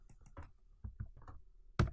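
Numbers typed into an Excel 2010 spreadsheet on a computer keyboard: a quick run of irregular key taps, fairly close and quiet, ending in one sharper, louder keystroke, with no talking.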